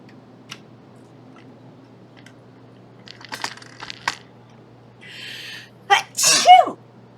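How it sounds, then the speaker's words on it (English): A single sharp human sneeze near the end of a quiet room with an air conditioner humming, preceded by faint scattered clicks and rustles, no talking. "Achoo!"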